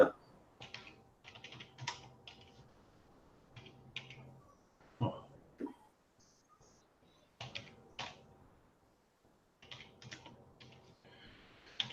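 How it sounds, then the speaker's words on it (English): Bursts of keyboard typing, clicky keystrokes in quick runs separated by pauses, with a few soft background sounds between. "Can you hear me typing?"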